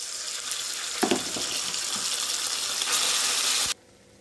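Curd rice goes into a hot pan of fried tempering with a loud, hissing sizzle and scattered crackles that fade into a steadier rush before stopping abruptly near the end.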